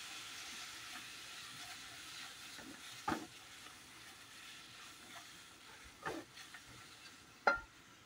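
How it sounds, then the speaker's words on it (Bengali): Raw rice and lentils frying in a pan give a faint, steady sizzle, broken by a few louder scraping stirs near the end, with no voices present. "এই যে আমি সুন্দরভাবে চাল এবং ডালটাকে এই যে ভেজে নিতেছি।"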